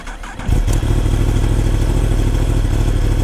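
A Yamaha R1M sport motorcycle fires up and settles into a loud, close, steady idle, its deep throbbing exhaust rumble taking over after a brief quieter moment at the start.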